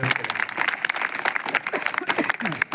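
An audience at a Hindi-language gathering applauds to welcome the chief guest, a future mayoral candidate, with brisk, uneven clapping from a modest crowd that swells and dips, with voices mixed in under it.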